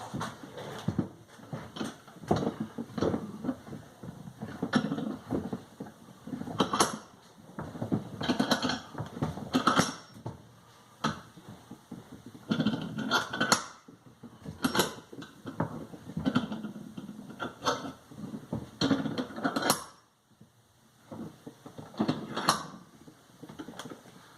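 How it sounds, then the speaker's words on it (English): A clamp being tightened on a wooden stitching pony, a series of close ratcheting creaks and knocks in irregular bursts separated by short pauses. "just to get a little more clamping pressure on the bottom here"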